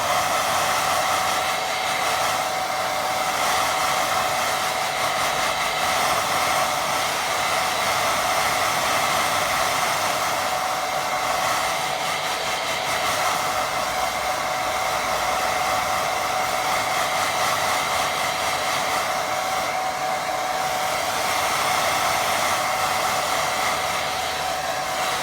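A hair dryer blows steadily on a watercolour painting, a continuous loud whirring hiss with a faint high whine that keeps going without a break throughout.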